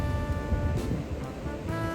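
Sea waves wash onto a beach in a continuous, loud surf wash, with a steady tonal drone running beneath the water noise throughout.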